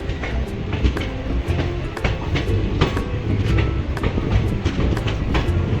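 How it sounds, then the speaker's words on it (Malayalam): A train rolls into the station with a loud, steady rumble. Wheels click-clack at a regular beat over the rails, and the sound stays close and continuous throughout. "ട്രെയിൻ ഇതാ അവിടെ എത്തിയിട്ടുണ്ട്."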